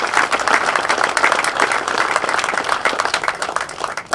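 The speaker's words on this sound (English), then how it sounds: "So let's give them all a great round of applause." A crowd applauds at the dedication ceremony for Woburn's fire headquarters, a loud, sustained outdoor burst of many hands clapping and fluttering evenly throughout.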